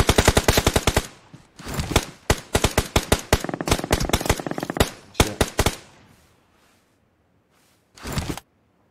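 Video game gunfire: rapid automatic bursts of shots crackle in quick clusters, then fade to near silence before one last short burst near the end.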